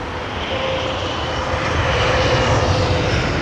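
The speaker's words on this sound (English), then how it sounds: "Lovely British Airways 777 arriving there" A British Airways Boeing 777 arrives at London Heathrow, its strong jet engine roar steady and close with a faint whine running through it, swelling slightly toward the end.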